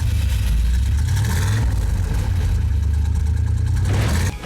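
A loud, deep engine idles with a heavy rumbling burble, swelling with a couple of revs before settling and cutting off near the end.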